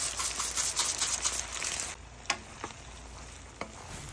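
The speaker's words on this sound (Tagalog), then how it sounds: "Itos lang natin ang pasta sa ating sauce." Pasta is tossed and stirred in a creamy chicken and mushroom sauce in a pan, a wet sizzle with scraping stirs early, then quieter with a few clinks.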